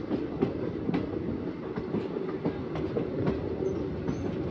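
Train running along a rail line in remote Assam, its wheels giving a steady rumble with repeated clickety-clack knocks over rail joints, close and continuous with no voices.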